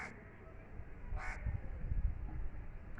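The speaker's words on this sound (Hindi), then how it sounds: "अरे कौवा है जी, नॉर्मल कौवा है." A house crow gives a short, fairly clear caw in an indoor setting, with low background rumble and handling noise around it.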